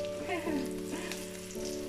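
Cap jae vegetables frying in a pan, a continuous close sizzle with a few stirring scrapes and faint tonal hum behind.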